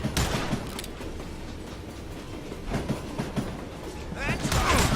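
Gunfire during a train robbery in Call of Juarez: Gunslinger, with sharp shots cracking over the rhythmic clatter of a moving train while voices shout in the background.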